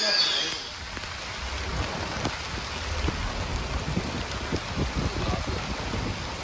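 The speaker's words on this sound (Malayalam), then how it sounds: "പോകുന്ന വഴി തന്നെ നല്ല പെരു മഴയാണ്" Heavy monsoon rain pours steadily on the road through Mudumalai Tiger Reserve, a dense continuous hiss with scattered close drops and patters, faint low rumble underneath, and no voices.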